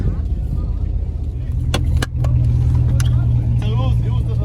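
A Camaro SS with its misfire repaired idles with a steady, deep rumble close by, and people talk casually over the running engine.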